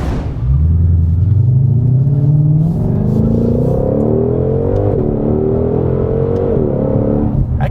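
A Ford Mustang Shelby GT500 engine pulls hard while driving, a loud, close, deep rumble climbing steadily in pitch through acceleration with a brief gear change, heard from inside with no talk.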